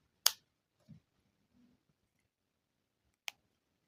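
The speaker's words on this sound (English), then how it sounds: "cut off the yarn" Scissors snip through crochet yarn with a single sharp click, then a softer snip follows a few seconds later, both faint and isolated in an otherwise quiet room with a couple of light handling bumps between.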